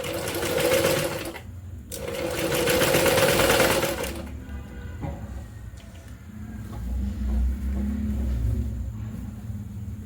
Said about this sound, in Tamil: நான் ஸ்டிச் பண்ணிவிட்டு காமிக்கிறேன்